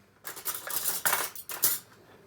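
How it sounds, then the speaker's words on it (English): A metal spoon scooping cake mix into a piping bag, giving three or four close clinking scrapes against a bowl in quick succession, with no voices. "you will just want to spoon your mix into your piping bag"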